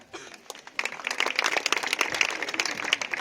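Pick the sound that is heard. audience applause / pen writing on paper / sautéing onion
audience applause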